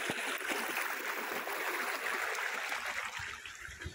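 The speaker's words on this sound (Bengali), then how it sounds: "এই যে মোটরের জল" Water gushing steadily from a shallow-well irrigation pump motor beside farm fields, a continuous broadband rush with a faint gurgling undertone, close and fairly loud throughout.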